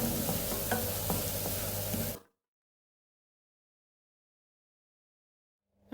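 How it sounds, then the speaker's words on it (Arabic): Potatoes frying in hot oil make a dense, close sizzle with a few crackles for about two seconds, then cut off abruptly into silence. "نقليه في الزيت، نقليه ياخذ القليان، يطيب في القليان"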